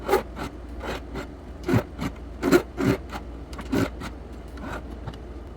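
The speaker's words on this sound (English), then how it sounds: "filing at an angle on the back to remove the burr that's left from cutting with a pancake die" Hand file rasping along the edge of a metal blank cut with a pancake die to clear the burr, a series of short, close, dry strokes in an uneven rhythm, heard alone.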